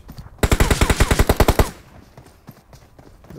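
Gunfire in the PUBG Mobile video game: a loud close burst of about a dozen rapid, evenly spaced shots that stops suddenly, followed by quiet with faint scattered movement.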